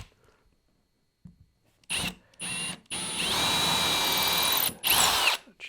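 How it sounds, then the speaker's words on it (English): A power drill pre-drills a hole in a woodworking jig, starting and stopping in several short bursts, then running in one long whirring stretch before a final burst, close and loud. "Have to pre-drill that."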